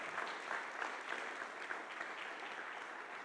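A church congregation applauds during a service, a steady, moderately loud patter of many clapping hands that holds evenly for a few seconds with no voices over it.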